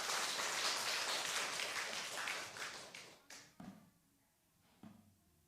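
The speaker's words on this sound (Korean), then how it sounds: "우리 다시 한번 뜨겁게 축복의 박수 한번 해주시면 감사하겠습니다" Church congregation applauds a retired elder at an ordination service, dense clapping that thins out and fades, ending in a few scattered claps and soft knocks in a quiet hall.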